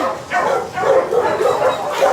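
Dogs at an animal shelter bark and yip repeatedly, loud and close, in overlapping bursts that echo through the kennel area.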